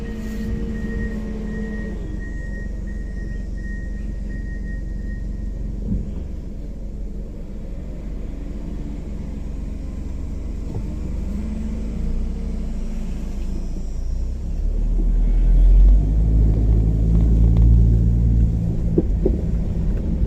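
A car passes along a dirt road with a road grader working nearby, a steady low rumble swelling louder toward the end as the vehicle draws close, with no talking.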